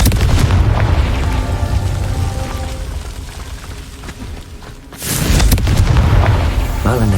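A Confringo fire spell cast in the video game Hogwarts Legacy lands as loud, booming blasts, with a sustained roar at the start and a fresh burst near the five-second mark, set against a dense game-effects soundscape.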